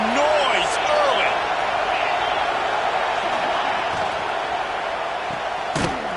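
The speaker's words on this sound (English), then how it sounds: "This crowd bringing the energy and noise early." Football stadium crowd, a dense, steady roar of many voices filling the whole stretch, with a couple of sharp bangs and whistles cutting through near the start and end.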